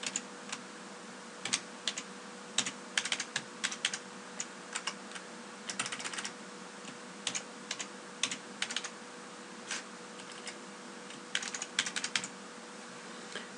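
Keys on a computer keyboard tapped out in quick irregular bursts while a password is entered, close and fairly quiet over a steady low hum, with short pauses between clusters of keystrokes.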